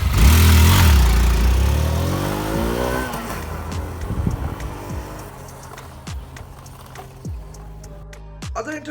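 A Hero Xtreme 160R motorcycle riding on a road, its engine note climbing through gear changes and then fading as it passes by and recedes, ending with lighter road noise.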